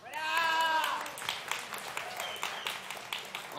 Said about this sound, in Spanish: Aplauso, aplauso para los freestylers